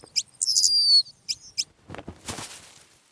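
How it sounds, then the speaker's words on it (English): Jackson's widowbird gives a few sharp, high, buzzy calls in quick bursts out in dense grassland, followed by rustling, crackling noises from the vegetation. "the widow bird is a specialist at hitting the high notes"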